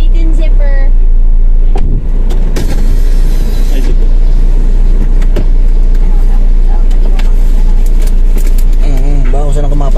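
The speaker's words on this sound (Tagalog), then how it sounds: "Ang tindi na traffic dito." Dense street traffic roars steadily close by, with engine rumble, passing vehicles and a few horn toots near the end, under near-constant talk from passengers.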